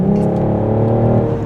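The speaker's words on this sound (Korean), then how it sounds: "엑셀을 조금만 밟아주면은 이렇게 바로 스포츠 모드에 준하는 배기음 그리고 거친 엔진의 반응" A BMW M440i xDrive coupe's engine revs under light throttle with a sporty, Sport-mode-like exhaust note, a loud, steady, close drone throughout.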